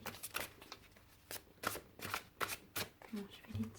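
Oracle cards are shuffled in quick riffling bursts close by, interspersed with soft taps as cards are drawn, while someone speaks over the shuffling.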